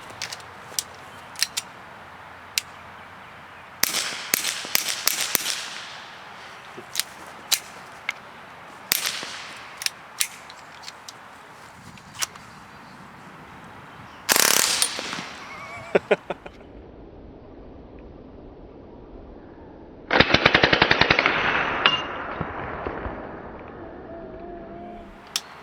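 Shots from an integrally suppressed Ruger 10/22 rifle fired outdoors: scattered sharp cracks over about 25 seconds, single and in short bursts, with a longer rough stretch near the end and no talk.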